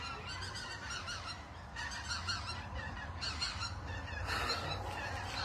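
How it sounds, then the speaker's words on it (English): Geese honk repeatedly as a flock passes overhead, several bursts of calls rising and falling at moderate distance with no talking. "More birds coming through."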